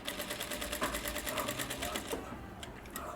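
A sewing machine stitches the coat collar of a kurti, its needle hammering in a fast, steady close-up rhythm that runs almost the whole time before easing off near the end.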